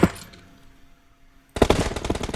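Gunfire in PUBG Mobile, a loud burst of rapid automatic shots at the start, a short quiet pause, then another sustained, fast-rattling burst close up.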